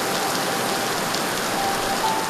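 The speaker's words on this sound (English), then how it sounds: "Rain over the Australia Day long weekend was a welcome relief." Heavy rain in Townsville, Australia, pours down in a dense, continuous hiss of drops striking surfaces, steady and loud with no breaks.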